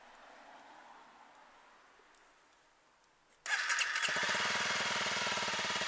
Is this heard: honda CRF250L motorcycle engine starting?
yes